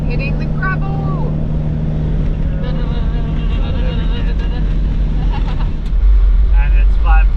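A four-wheel-drive vehicle drives along a rough gravel track on a road trip between Esperance and Albany, giving a loud continuous rumble of engine and tyre noise with a voice talking over it.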